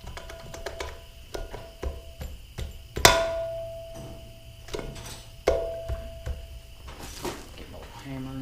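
A small hammer taps repeatedly on the bearing shaft of a Rayco 85 stump grinder, sharp metallic knocks at an uneven pace with one hard ringing strike standing out, close and loud.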